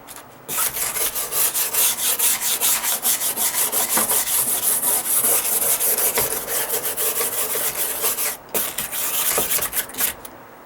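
A hand scraper rasps over moldy plywood and 2x6 framing under a deck in quick, rhythmic strokes, each one a close, gritty scrape, repeated steadily with a few short pauses.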